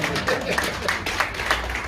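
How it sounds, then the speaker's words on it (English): Crowd applause for an MC at an Australian Indian community event, steady clapping with a few sharper peaks, mixed with voices. "And a round of applause for Australia's best MC, Lewis Lee."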